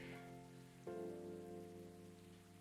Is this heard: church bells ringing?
no